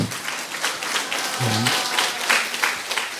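A church congregation clapping together during a Pentecost Sunday service, a steady wash of hand claps throughout, with a brief low vocal tone partway through.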